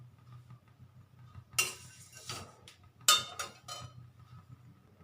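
Flattened rice (chira) frying in a pan, heard as a few scattered metallic clinks and scraping bursts of a spatula against the pan over a faint low hum, with quiet gaps between the strokes.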